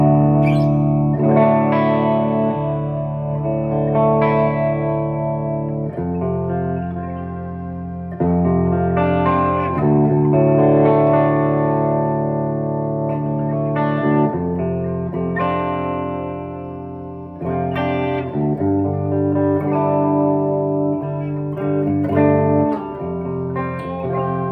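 A light Wolf WLP 750 electric guitar in amber, played through effects with distortion, chorus and reverb, strums and picks chords and lines, loud and close, with no talking.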